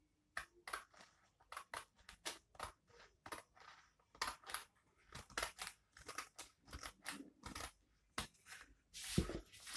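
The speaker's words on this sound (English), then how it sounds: "So what I'm going to do now is to cut it out like this." Scissors cutting out a paper pattern piece for a corset, with rapid, regular close snips in steady bursts and a louder rustle of paper near the end, no talking.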